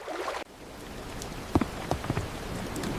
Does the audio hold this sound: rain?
yes